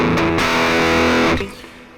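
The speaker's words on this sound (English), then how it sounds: "like your HP stack." A distorted electric guitar runs through an Airwindows Cabs cabinet simulation set to the HP stack type, one thick sustained chord ringing loud and close before cutting off and decaying.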